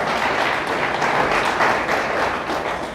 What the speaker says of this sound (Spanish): Déselo fuerte, fuerte para Dios.